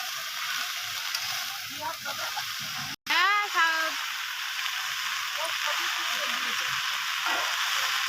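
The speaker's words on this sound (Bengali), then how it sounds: "ভালো করে নাড়াচাড়া দেবো শাকটা দিয়ে।" Chickpea greens hissing and crackling in a pan with fried potatoes, eggplant and lentil dumplings, a steady close sizzle broken by a brief bright clank of the spatula, without talk.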